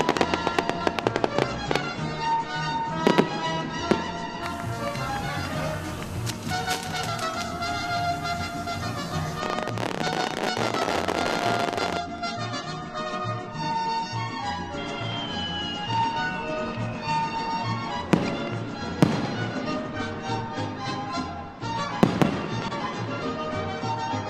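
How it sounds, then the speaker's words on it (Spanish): Fireworks and firecrackers go off at a Mexican fiesta, with dense rapid crackling, repeated sharp bangs and whistling rockets sustained over the whole stretch, loud and close with no talking. "Ese es lo básico de una fiesta, es la pirotecnia."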